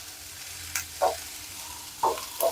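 Sliced onions fry quietly in oil, with a soft low sizzle under a few distinct spoon scrapes and taps against the pan, close and without speech.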